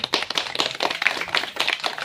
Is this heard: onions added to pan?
no